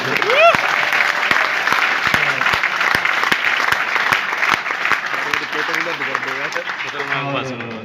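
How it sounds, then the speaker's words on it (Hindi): A seminar audience in Panipat claps through a loud, sustained round of applause with crisp individual claps near the front, while a voice and some crowd noise carry on over it. "तालियां बजा रहे सारे मुच्छड़"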